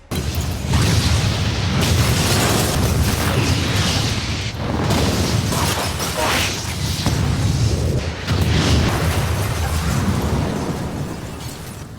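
A film-scene explosion roars with a sustained, dense, loud rumble and crackle lasting several seconds, with no voices over it.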